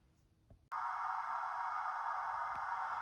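After a brief quiet moment, a steady mechanical hum starts abruptly and continues evenly at close range, a model locomotive's small engine running.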